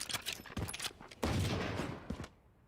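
Gunfire rattles in a Valorant Challengers Korea esports match: scattered sharp shots, then a dense burst of rapid fire that fades away, with no voices.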